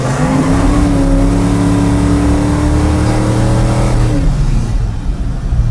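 A 1965 Dodge Coronet 500 with about 471 horsepower pulls away hard, its loud V8 roaring close up as it climbs through the revs, then the note drops off near the end.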